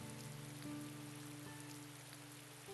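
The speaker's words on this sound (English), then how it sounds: "Perhaps it is the rain." Soft, steady rainfall in the Destiny Connect: Tick-Tock Travelers video game, a faint continuous patter under low tonal background music with no speech.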